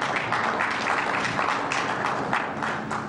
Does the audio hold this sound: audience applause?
yes